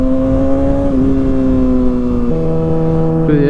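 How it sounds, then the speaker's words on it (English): A Kawasaki ZX6R motorcycle fitted with an M4 GP19 exhaust revs up and holds high, then steps up again near the end, a loud, whining tone close by with no talking. "this fucking exhaust, it sounds so good"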